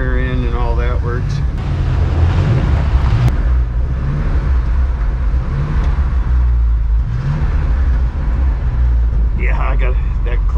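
A 1959 Chevy Apache Napco 4x4 truck runs and drives, its engine rumbling and surging steadily throughout with a loud, close low drone.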